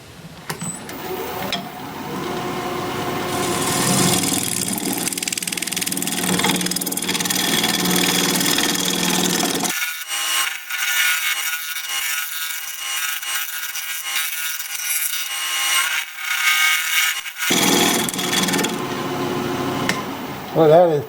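Woodturning tool cutting scrap apple wood on a lathe, flattening and beveling hard wood; a steady scraping, whirring cut runs continuously, with a brief lighter stretch midway before the fuller cutting resumes.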